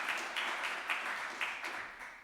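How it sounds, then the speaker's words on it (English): Audience applause for two speakers at an exoplanet research session, a faint patter of scattered claps from a modest crowd, heard briefly and at a distance. "Please claps for both gentlemen"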